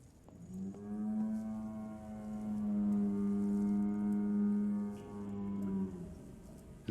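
A cow in the horror video game Close To The Sun gives one long, deep, resonant moo lasting several seconds, rising and holding steady before tapering off, heard alone and fairly loud.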